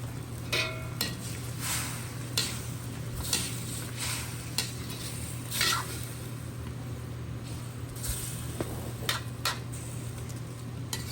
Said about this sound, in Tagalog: haluin lang po natin ng bahagya para hindi madurog ang chicken